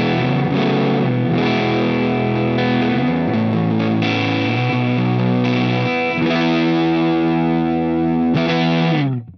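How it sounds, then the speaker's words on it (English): Electric guitar on the neck pickup through a Line 6 Helix at stock settings, a gritty distorted tone; a steady run of loud, close chords and sustained notes plays continuously before cutting off, with no speech. "That's the stock settings. Pretty dirty sound."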